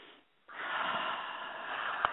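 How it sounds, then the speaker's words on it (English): A single deep inhale through the nose, drawn steadily and held near the microphone for about a second and a half, alone without talk. "I just need to take a deep breath."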